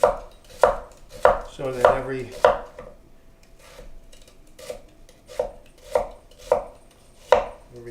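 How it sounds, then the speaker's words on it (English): A knife chops onions julienne style on a cutting board for French onion soup, with about a dozen sharp, evenly paced knocks against the board. One brief faint voice is heard in between. "Now we slice the onions julienne style."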